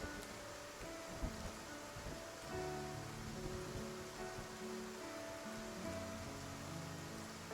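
Rain falls in the Love and Deepspace video game as a soft, continuous patter with low background tones, steady and fairly quiet throughout, and no one speaking.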